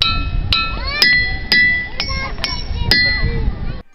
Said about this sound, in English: They ring when they are hit with a hammer.